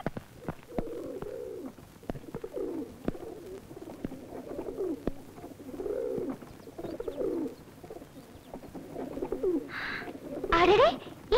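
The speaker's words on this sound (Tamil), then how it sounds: "அடடே, இங்க பேர்ட்ஸ் எல்லாம் இருக்கே." Pigeons coo in soft, repeated rounded calls at a moderate distance outdoors, with a few sharp clicks between them and a louder flutter of bird noise near the end.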